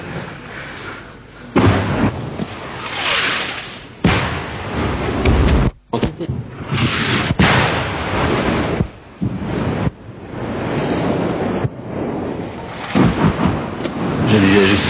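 Distant French artillery fire comes as repeated heavy booms and rumbling blasts, several separate deep thuds rolling out across the stretch in an old field recording, loud and broad, with brief gaps between bursts.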